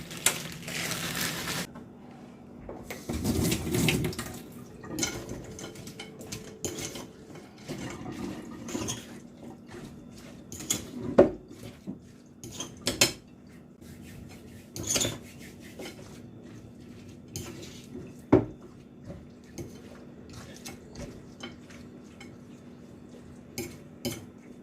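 Dishes and cutlery washed at a kitchen sink during cleanup after chicken prep, with running water, clinking utensils and knocking of pots and plates at irregular intervals, close by.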